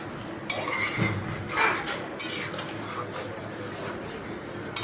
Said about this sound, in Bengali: দিয়ে এখন মা একটু মিশিয়ে নিচ্ছে